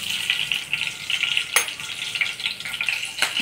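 Slit green chillies and mustard seeds sizzle in hot oil while tempering, a close, steady crackling hiss with small pops and a couple of sharper spatters.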